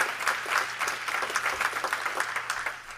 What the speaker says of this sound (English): Let's give them another round of applause, huh?